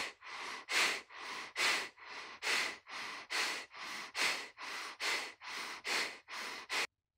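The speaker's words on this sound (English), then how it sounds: "This breathing technique is called Kapalabhati Pranayama." Kapalabhati Pranayama breathing: rapid, forceful rhythmic exhalations through the nose, about two per second, steady and close with no talking.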